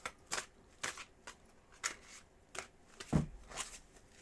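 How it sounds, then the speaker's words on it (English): A deck of tarot cards being shuffled by hand, a run of quick crisp riffling snaps and soft slides, close and fairly quiet, with one sharper rustle near the end. "I'm going to start to shuffle the deck for you, Valerie."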